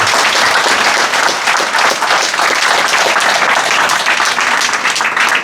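A full room claps steadily and loudly for a writer at a literary evening in a media library. The dense, sustained applause runs unbroken for several seconds with no voices over it.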